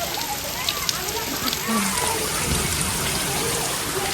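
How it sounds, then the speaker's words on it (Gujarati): Steady first-of-season rain falls outdoors, a dense continuous patter and hiss of drops on surfaces, growing slightly heavier partway through, with no voices over it. "મસ્ત મજાનો વરસાદ છે"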